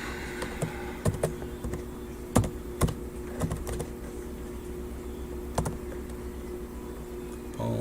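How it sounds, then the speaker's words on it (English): A search typed on a computer keyboard, close, irregular key clicks in short bursts with pauses between them over a quiet background hum. "And we'll type in polymer fume fever."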